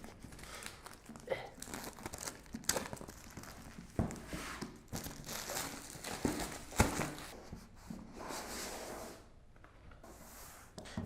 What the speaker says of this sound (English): here we've got the Oculus Quest. I'm going to unbox it